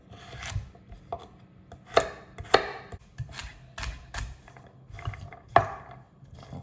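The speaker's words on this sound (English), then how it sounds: "I'm going to cut more or less my carrots in two, and then I'm going to cut some big cubes like that." A knife chops carrots into big cubes on a cutting board, with a run of close, sharp, irregular knocks, a few noticeably harder strikes among lighter taps, no voices, quiet room behind.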